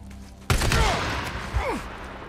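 A single loud gunshot in the video game Days Gone, a sharp blast followed by a long ringing tail and faint ricochet-like whistles, with no talk over it.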